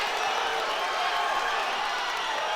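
A crowd at an FFC 44 fight show roars with a broad, steady wash of cheering and noise, fairly distant and sustained, with a commentator's voice likely mixed in.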